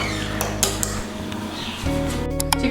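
Raw chicken pieces with egg and yellow food colouring are mixed in a bowl, a utensil clinking and scraping against the sides in a steady, close rhythm.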